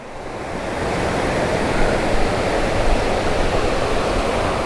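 A waterfall pours beside a three-storey bamboo hotel among rice fields near Chiang Mai on the way to Doi Inthanon. The water gives off a steady, dense broadband roar that rises slightly and holds, with no voices.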